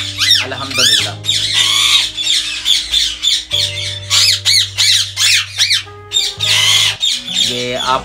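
Ringneck parrots in a breeding aviary give loud, harsh, repeated squawks and shrieks in rapid bursts, one call after another, close by and nearly continuous.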